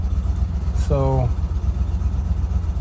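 A 2008 Ford Expedition engine idles rough in a steady low rumble throughout, with a brief whine-like tone partway through.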